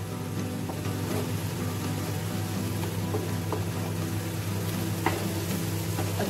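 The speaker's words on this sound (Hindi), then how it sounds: "3 मिनट हो चुके हैं, अभी हम टमाटर डाल देते हैं। फ्लेम बड़ी कर रही हूँ, अभी अच्छे से मिक्स कर देते हैं इसको।" Tomatoes for pav bhaji fry in a pan over a raised flame, producing a steady, moderate sizzle with occasional soft stirring scrapes beneath a constant low hum.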